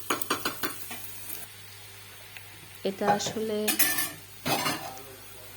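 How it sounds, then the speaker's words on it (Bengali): Onion and ginger frying in a pot while being stirred, with a quick series of metal spoon clanks and scrapes against the pot over a low sizzle; a person talks briefly in between. "আদা দিয়ে পেঁয়াজটাকে একটু ভালোভাবে ভেজে নিচ্ছি"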